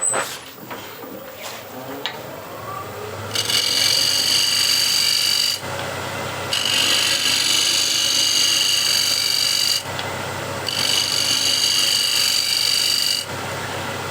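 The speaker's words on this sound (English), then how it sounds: "I'll scrape it." A woodturning scraper works the outside of a spinning wooden bowl on a lathe, giving a loud, bright scraping hiss in long bursts separated by brief quieter pauses while the machine hums underneath.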